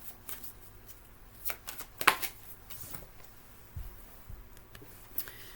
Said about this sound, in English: I definitely felt fear and anxiety when I was shuffling your cards